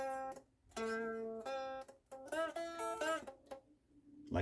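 Electric guitar playing a riff, with short muted chord stabs and sustained notes in a quick, choppy rhythm, played alone and fairly close.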